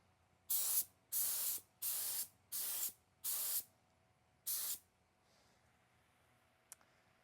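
A paint spray gun laying yellow paint onto a car in six separate hissing bursts of about half a second each, evenly spaced and close, followed by quiet and a faint click.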